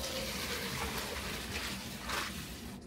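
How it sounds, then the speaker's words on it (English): Pasta cooking water pours and splashes steadily from a kitchen pot while some is reserved, a continuous moderate gush lasting a few seconds. "We do this every time we cook pasta, we reserve some of the cooking water."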